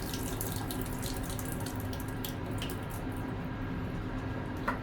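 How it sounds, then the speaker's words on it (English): Water runs and splashes into a photo lab sink in a steady, close, continuous gush, with no one talking. "Pour the water out."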